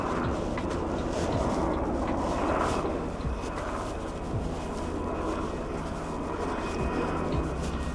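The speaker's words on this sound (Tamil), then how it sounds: "இந்த மாதிரி ஹெலிகாப்டர்ஸ் வந்துட்டு போயிட்டு தான் இருக்கும்." A helicopter flies over a port city with oil and gas industry, a continuous engine drone and rotor rumble that holds steady throughout, moderately loud and somewhat distant.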